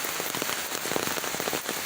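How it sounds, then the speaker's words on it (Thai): Steady rain patters densely on a surface, a continuous hiss studded with close, crackling drops throughout. "ฝนตกแล้ว"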